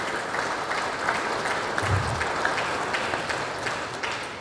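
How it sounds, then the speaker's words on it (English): An audience applauds at a governorship primary election committee inauguration, a steady dense patter of clapping from a crowd at moderate volume, continuous throughout with no voices standing out. "A round of applause for yourselves again"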